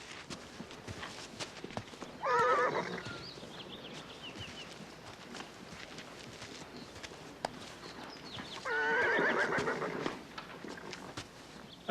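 Hooves clip-clop on the ground near a racehorse at a fairground, with two loud neighs or whinnies rising above the steady hoofbeats, one early and one later.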